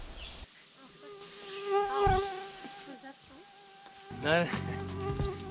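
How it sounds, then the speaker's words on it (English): A swarm of buzzing insects outdoors, with several whining buzzes passing close and fading, swelling louder in two spots, while a person briefly speaks. "It's a lot of bugs"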